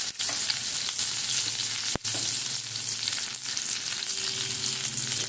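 Black cumin (nigella) seeds sizzle in hot oil for a prawn curry with raw tomato, a steady close frying hiss with a couple of brief crackles and a soft scrape.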